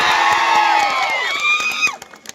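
A crowd at a political party gathering applauds and cheers loudly, rapid claps mixed with shouting voices and whistle-like whoops before the noise drops off sharply.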